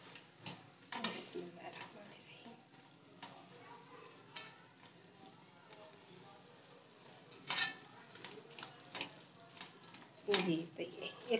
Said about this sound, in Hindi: इसमें 1/2 कप ऑयल ऐड कीजिएगा, और इसकी भुनाई करेंगे अच्छी तरह से।